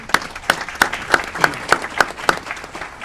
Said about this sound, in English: We give her a round of applause